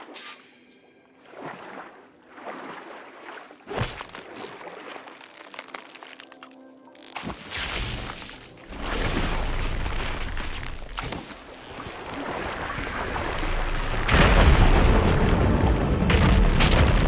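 Rubble blasted clear by an ignited fire gleam in a video game: scattered cracks and booms early on, then longer rumbling bursts building to a loud, sustained roar near the end.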